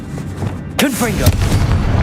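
Confringo fire spell blast in the wizarding game Hogwarts Legacy, one sudden loud burst with crackling and a whooshing tail, followed by rumbling impacts and brief voice sounds.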